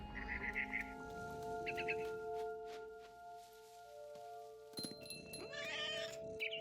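A cat meows several times over steady electronic background tones, ending in a longer, wailing caterwaul, in the video game What Remains of Edith Finch.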